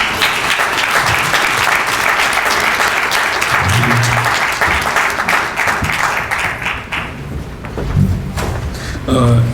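An audience claps for the speakers after a panel talk on the evolution of family, a dense, loud round of applause that thins out toward the end, with brief voices breaking through near the close.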